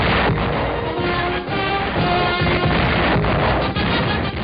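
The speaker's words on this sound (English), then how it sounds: "One after another, with varying effects, the containers go up with spectacular results as water and sodium meet." Containers of sodium burst one after another on contact with lake water, making a dense, continuous roar of loud blasts and crashing splashes with no pause.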